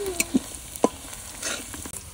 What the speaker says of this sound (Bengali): রসুন বাটা, জিরে বাটা, বাটা মশলা কষাই নিছি।